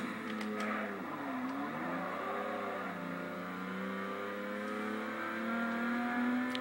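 A 1995 Volkswagen Corrado VR6 engine accelerating hard, with a steady, loud engine drone whose pitch climbs and dips through gear changes, heard close from inside the car with no talking.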